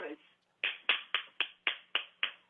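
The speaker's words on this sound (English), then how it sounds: "So please, everybody, clap for Jeff Garver" A handful of sharp claps in an even rhythm, about seven crisp hand strikes after a brief murmur, sounding close and fairly light rather than a large crowd, greeting Jeff Garver.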